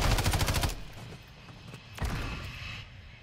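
Rapid automatic gunfire from a VTOL aircraft in a multiplayer shooter game, a loud burst of quick shots in the opening moment, then distant rumbling battle noise and another softer volley.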